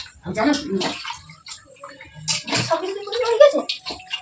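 Water is poured and splashes as a deity idol is ritually bathed during a Janmashtami puja at home, with intermittent splashing under people talking throughout.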